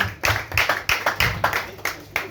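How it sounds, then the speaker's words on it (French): A church congregation claps for their pastor at his anniversary service, a steady rhythmic run of about ten loud, close claps with no voices over them. "Est-ce qu'on peut encore acclamer?"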